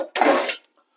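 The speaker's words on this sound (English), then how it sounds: "And then we're going to get out a little" A small frying pan is pulled out in a kitchen, giving a brief metallic clatter and scrape lasting about half a second, followed by a faint clink.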